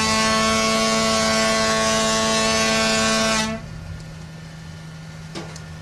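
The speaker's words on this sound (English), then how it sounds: "we're gonna try the foghorn. One loud blast." A ship's foghorn sounds one loud, steady, sustained blast for about three and a half seconds, then cuts off, leaving quiet background noise.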